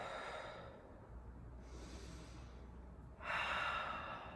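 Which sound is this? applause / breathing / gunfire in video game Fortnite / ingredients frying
breathing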